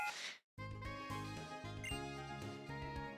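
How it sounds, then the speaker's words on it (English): A phone's ringtone chimes during a Pokémon White game stream, playing a bright melodic jingle of repeated ringing tones that starts abruptly after a short burst of noise and a brief pause, close and clear. "Oh, great, I'm getting a phone call."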